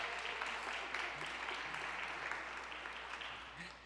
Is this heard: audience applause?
yes